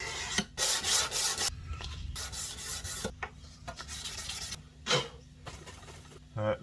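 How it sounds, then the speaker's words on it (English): A hand plane shaves an ebony violin fingerboard in a luthier's workshop, giving repeated rasping strokes in a steady back-and-forth rhythm, close and crisp, with short pauses between passes. "I do want to plane this fingerboard"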